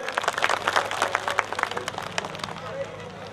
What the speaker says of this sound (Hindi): टाइम को देखते हुए जोरदार तालियों से स्वागत।